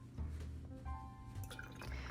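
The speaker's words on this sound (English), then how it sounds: "And next, you want to add some spiced rum." Spiced rum poured into a hot buttered rum drink, a soft liquid trickle and drip heard close up over a low background hum, lasting about two seconds.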